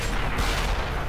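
A tank gun fires in the World of Tanks game, a short loud blast with a rumbling low-end boom filling the whole moment.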